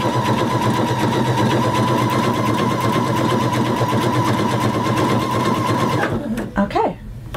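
A sewing machine stitches a gentle curve down a quilt block, running steadily and loud for about six seconds before stopping; a voice speaks over the steady hum.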